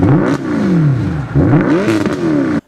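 A Mercedes-Benz SLS AMG with a 6.2-litre naturally aspirated V8 revs loudly and close, rising and falling in pitch twice with a brief drop between, then cutting off abruptly.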